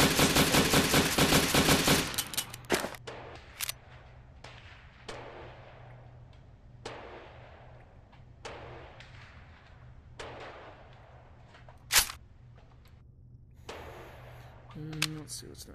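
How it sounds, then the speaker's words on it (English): Integrally suppressed Maxim 9 pistol fired in the VR shooting game Gun Club VR: a loud opening burst, then a string of sharp, fairly muffled single shots spaced irregularly over a low steady hum, with a few louder cracks later. "Maxim 9, an actually integrally suppressed pistol."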